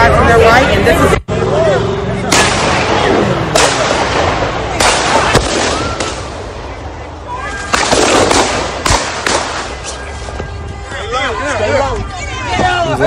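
Shots ring out during a street protest, several sharp cracks spread across a continuous roar of crowd noise and shouting voices, some reports loud and close, others lost in the din.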